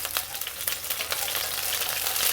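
Spring onions stir-fry in a pan for beef and onion, giving a steady close sizzle with light crackles and soft stirring scrapes throughout.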